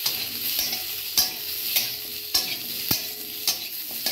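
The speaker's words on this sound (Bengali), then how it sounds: "4 মিনিট ধরে গ্যাসটাকে মিডিয়াম ফ্লেমে রেখে আমি আলুগুলো হালকা করে ভেজে নিচ্ছি।" Potatoes fry in a pan over a medium gas flame, giving a soft continuous sizzle broken by sharp scraping stirs that recur roughly every half second, close and clear, with no voices.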